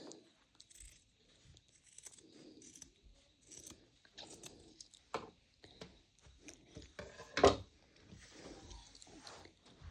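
Scissors trim fabric for a Valentine heart pillow. There are quiet, close, intermittent snips and rustles, with one louder clack near the end.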